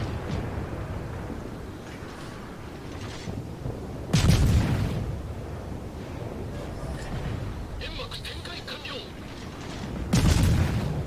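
Shimakaze destroyer guns fire in World of Warships, two sharp heavy booms several seconds apart over a continuous low battle rumble and faint mechanical noise, with French commentary talking throughout.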